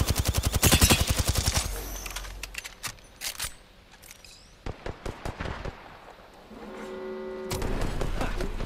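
Gunfire in the video game Apex Legends: a dense, rapid burst of shots up front, then scattered single cracks and a short spaced volley before a sustained in-game tone closes it out.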